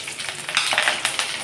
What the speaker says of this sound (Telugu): ఎందుకంటే బాగా ఫ్రై కావాలి కదా పచ్చిమిర్చి